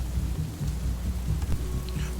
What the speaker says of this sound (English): Man, I can't see shit through this storm